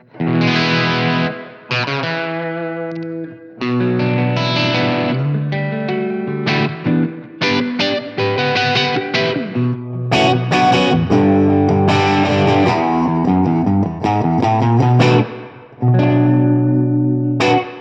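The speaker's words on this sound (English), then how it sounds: "which I think is a really, really great Voxy sort of tone" Electric guitar plays a run of chords and ringing notes through a Blackstar AMPED 1 amp-in-a-pedal set for a Vox-style tone, driven and slightly distorted with a reverb tail, loud and close.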